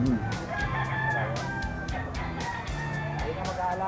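A bullstag rooster in Bulacan crows loudly and repeatedly, close by, among other clucking fowl, while people talk in the background.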